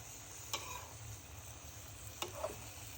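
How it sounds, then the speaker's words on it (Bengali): Malabar spinach greens being stirred into shrimp curry in a pan, with a faint, steady sizzle and a few soft scraping clicks of the spoon, close by and quiet, with no talking. "বন্ধুরা শাকগুলো দিয়ে দিচ্ছি, এখন ভালো করে একটু নেড়ে নিব।"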